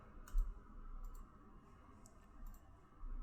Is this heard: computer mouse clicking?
yes